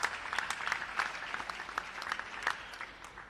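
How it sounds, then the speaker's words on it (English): A crowd at a junior squash nationals match in South Africa claps, with scattered, moderately distant applause sustained throughout and sharp individual claps standing out. "Duly applauded by the crowd."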